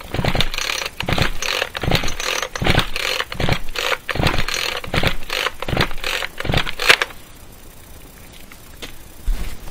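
A chainsaw that will not start is pulled over at full throttle: about nine rhythmic, rasping cranking strokes from the recoil starter, loud and close, then the pulling stops and only a quieter shuffle remains, with no engine catching and no speech.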